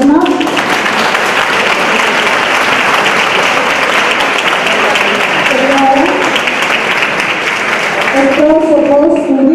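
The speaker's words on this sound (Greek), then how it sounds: "Ένα δυνατό χειροκρότημα για τους αθλητές μας." A strong round of applause at a professional boxing championship fills the space with dense, loud, steady clapping from a crowd, while a voice over a public address system speaks through it.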